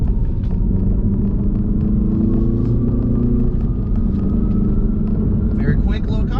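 A 2022 MINI Cooper S with a manual gearbox accelerates on a highway, its engine droning steadily under heavy road rumble inside the cabin with a rising pitch as it pulls.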